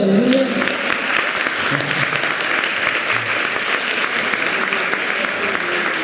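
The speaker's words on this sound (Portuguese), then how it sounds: "Vamos aplaudir o Senhor." A church congregation applauds together in steady, dense clapping that fills the space at constant loudness, with a few voices briefly calling out near the start.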